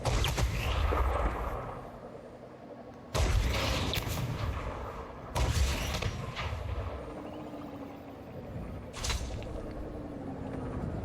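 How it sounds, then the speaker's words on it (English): Displacement missiles fired from a ship in the Elite Dangerous space game, three or four heavy booming launches spaced several seconds apart, each dying into a low rumble, with a faint whooshing tail. "That's a displacement missile."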